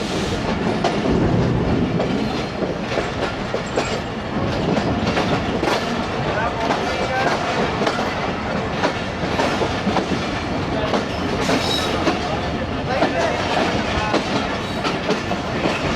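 Riding in the third coach behind the locomotive of the Ghouri Express between Faisalabad and Lahore, with steady rumbling rail noise and rhythmic clickety-clack of wheels over joints throughout, loud and close.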